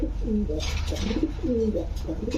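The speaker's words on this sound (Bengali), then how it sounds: "অনেক বড় এবং অনেক ওজন কবুতরটা" A large, heavy domestic pigeon gives several soft, close coos in a repeated rhythm over a low background hum.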